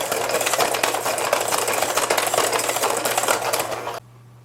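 An electric mixer whirs loudly and steadily while mixing pumpkin roll batter with orange zest, then stops abruptly near the end, leaving a low hum.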